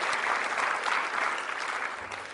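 Audience applause at a Rule of Law award ceremony honouring a justice initiative, a steady dense wash of many hands clapping throughout, fairly distant and even, with no voices over it.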